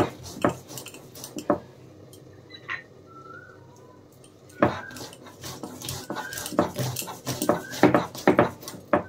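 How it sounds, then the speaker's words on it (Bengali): Poppy seeds and chillies ground by hand on a traditional Bengali grinding stone, with irregular scraping and knocking strokes that come in bursts and grow busier toward the end, alongside faint clinks. "ভালো করে মিহি করে বেটে নেব।"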